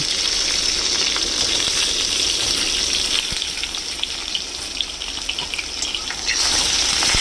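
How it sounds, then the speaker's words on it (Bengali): Raw green mango pieces drop into panch phoron spices frying in hot oil, giving a steady, loud sizzling hiss that fills the whole stretch and surges slightly near the end, with no talking. "পাঁচফোড়ন ভাজার যেই গন্ধটা বেরোবে তখন এই যে আম কেটে রেখেছি সেই আমগুলো দিয়ে দেব"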